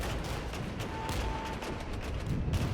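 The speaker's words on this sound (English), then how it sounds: "just let the mortars do their thing" Mortar fire in the strategy game Regiments keeps up a steady, dense rumble of distant blasts and shots, a continuous layer of battle noise with no clear single impact.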